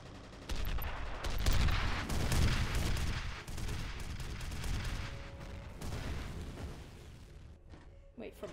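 Rapid gunfire rattles in the F.E.A.R. Perseus Mandate video game, with dense bursts and booming shots over several seconds and a speaking voice mixed in.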